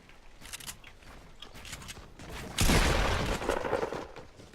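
Gunfire in a video game starts as scattered crackling shots, then a sudden loud burst of continuous firing takes over and holds to the end, with no talk over it.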